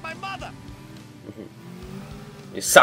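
A car engine in the video game GTA 4 hums and revs briefly, with a louder burst at the end. Someone talks over it at the start.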